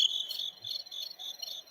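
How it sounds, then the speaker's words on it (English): A cricket sound effect plays on its own: a steady, close chorus of high, rapid chirps with no talking. "Would you play the crickets"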